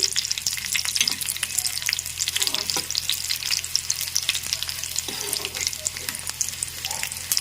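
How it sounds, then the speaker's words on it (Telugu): Dried red chillies fry in hot oil, a dense, steady crackling sizzle up close with scattered sharp pops that carries on for several seconds without any voice. "ఎండుమిర్చి వేసేస్తున్నానండి. చక్కగా దోరగా ఇవి వేపేసుకొని"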